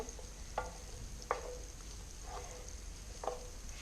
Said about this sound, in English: Just keep on stirring